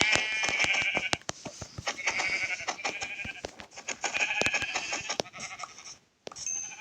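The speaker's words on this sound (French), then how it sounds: "Il y en a deux, il y en a deux moutons, il y a deux moutons." Sheep in Minecraft bleat over and over across a busy stretch of game noise, the clipped calls stacking close together at moderate loudness, with a short silent gap near the end and no talk.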